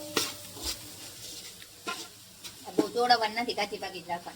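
A steel spoon stirs tempered bhel in a pan, making scattered clinks and scrapes over a soft sizzle, while a person speaks during the stirring.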